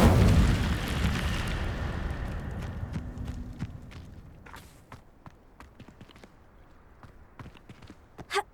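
Incendio fire spell cast in Hogwarts Legacy: a loud whooshing burst of flame at the start that fades over several seconds into crackling, with scattered sharp ticks and a final small pop near the end.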